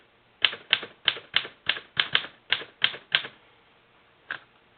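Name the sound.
Royal Junior typewriter typing after platen swap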